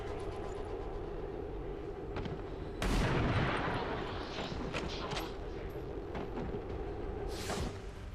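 Gunfire exchange in XCOM 2, a steady bed of battle noise with a loud burst of shots around the middle and scattered further reports, no voices.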